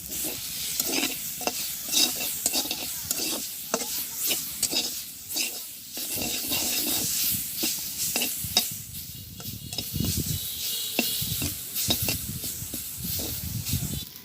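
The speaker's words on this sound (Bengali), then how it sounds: "পেঁয়াজটা সুন্দর করে ভাজি হয়ে গেছে, আমি এখন মিশিয়ে দিই" Fried onions get stirred in a hot, sizzling pan of oil while greens cook for a village-style meal, with repeated scraping strokes of the spoon over a constant close frying hiss and no speech.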